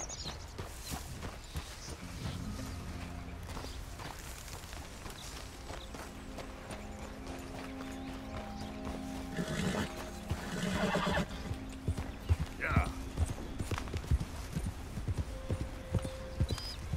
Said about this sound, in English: Did I just imagine a white, like, beautiful horse over here?